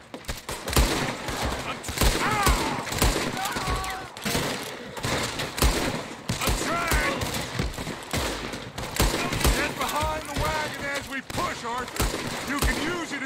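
Dense, rapid gunfire from a Red Dead Redemption 2 gunfight, sharp repeated shots and bursts throughout, overlapping shouted voices.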